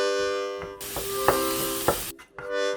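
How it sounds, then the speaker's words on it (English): Jackfruit broken up with a wooden spatula in a hot cast iron pan, a steady loud sizzle with several scraping, stirring strokes of the spatula, close up and without talking. "And break that up with a wooden spatula."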